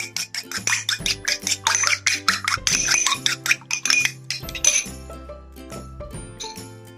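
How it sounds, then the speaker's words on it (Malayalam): Eggs whisked in a bowl for bakery-style chicken cheese balls: quick, rhythmic clinking strokes of utensil against bowl, close and fairly loud, over a steady tonal background. "ചേർത്ത് വെച്ച ശേഷം ഇനി നമുക്ക് ഈ മുട്ട ഒന്ന് അടിച്ചെടുക്കാം"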